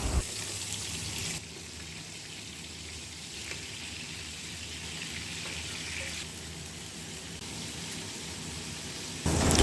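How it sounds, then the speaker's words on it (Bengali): Crabs fry in mustard oil in a wok, giving a continuous rain-like hiss and sizzle that holds steady for several seconds with a few abrupt shifts in level, close and without talk. "কড়াইতে সর্ষের তেল দিয়ে কাঁকড়াগুলোকে ভালো করে ভেজে নিলাম।"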